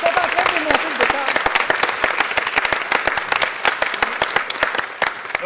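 Sustained, dense applause from a theatre audience for the actors, many hands clapping loudly and steadily throughout, with some voices mixed in.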